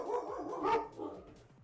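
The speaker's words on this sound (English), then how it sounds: "our dogs are barking" Household dogs barking nearby, a short burst of several quick yips and barks close together, with no talk over them.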